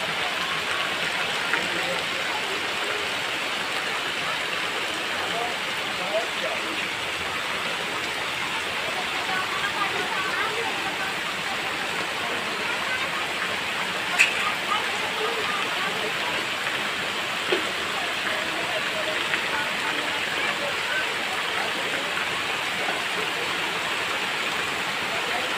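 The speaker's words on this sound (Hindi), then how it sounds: "बहुत ही तेज से बारिश हो रही है" Heavy evening rain pours down outdoors, a dense, even hiss of falling water that carries on unbroken and fairly loud throughout, with a few faint clicks scattered over the steady wash.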